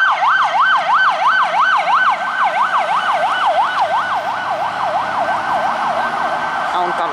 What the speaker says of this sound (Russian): Скорая